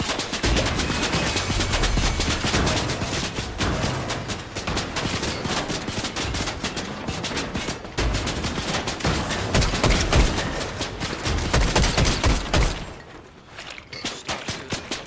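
Gunfire in Unreal, a long, loud, relentless stream of rapid automatic shots and bursts that barely lets up for fifteen seconds.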